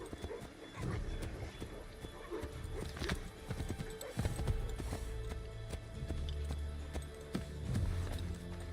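Horse hooves clip-clop in Assassin's Creed III, an irregular trot on hard ground that slows and stops, with a whinny and a low rumbling game ambience under it.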